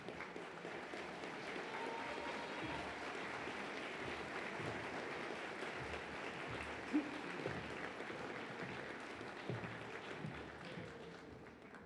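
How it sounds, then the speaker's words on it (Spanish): Steady audience applause in a university auditorium after a university orchestra performance at an anniversary ceremony, moderately loud and continuous for the whole stretch. "les despedimos con este fuerte aplauso"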